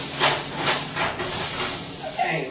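Leeks sauteing in a hot pan, a steady close sizzling hiss that stays even for a couple of seconds with slight swells, no talking.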